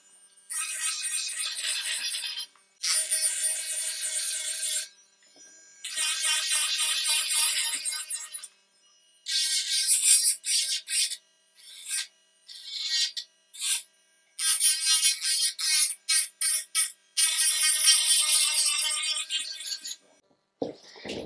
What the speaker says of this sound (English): I'm going to use a 180 grit file.